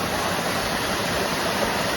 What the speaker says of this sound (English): All right, so we have made it to the actual falls.